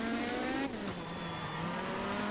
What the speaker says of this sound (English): The sounds as well when you're under brakes, the chattering, oh, it's just so good.